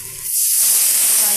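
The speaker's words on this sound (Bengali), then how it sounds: "এ পর্যায়ে আমি দিয়ে দেব একটুখানি পানি।" Water poured into a hot pan of well-fried onions sets off a loud, sustained sizzling hiss that swells within the first moment and holds steady, close and alone.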